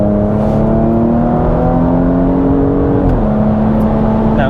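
Porsche with the sport exhaust opened, engine pulling hard under acceleration: a loud, steady, close-up drone whose pitch climbs smoothly, then dips briefly as a gear changes, with no one speaking.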